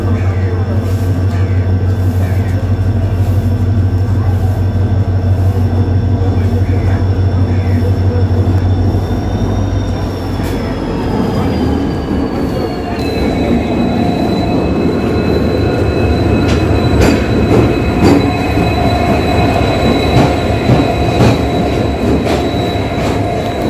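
A train pulls into a station at Kamakhya Junction, its steady low rumble and rolling wagons carrying long drawn metallic squeals from the wheels, loud and near, with faint voices now and then.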